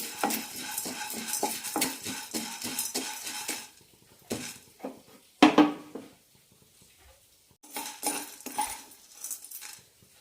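Chana dal roasting in a pan for idli podi gets stirred in bursts, with close metal scraping and clinking, then sudden silences between short rounds of stirring.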